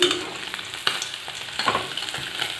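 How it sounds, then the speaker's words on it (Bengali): Fish pieces sizzle and crackle steadily in a frying pan of hot oil, with a few sharper pops and spatters and light scraping as they are turned, heard up close with no talking. "তো মাছগুলো প্রায় ভাজাও হয়ে গেছে, এবার আমি মাছগুলো নামাবো।"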